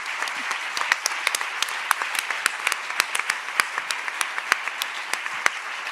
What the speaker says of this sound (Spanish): así que darles un aplauso